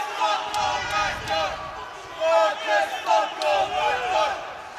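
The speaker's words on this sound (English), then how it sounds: "Crowd's going wild here." Spectators at an amateur MMA bout cheering and shouting, loud rising swells of voices and whistles in a packed venue, surging in waves across the moment with commentators' voices mixed in.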